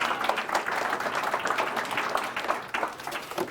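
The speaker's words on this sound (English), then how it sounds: "Let's give Karen a round of applause here." An audience at a talk about a 1,100-mile thru-hike of the Florida Trail applauds steadily for several seconds, a dense wash of clapping with no talk over it.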